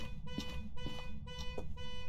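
A car alarm in the video game Phasmophobia blares in a repeating, pulsing pattern of electronic tones, steady and fairly distant, with no talking.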